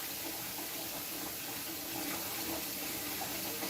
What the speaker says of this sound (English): Scalding hot water right to the top of where your sink is going to be full.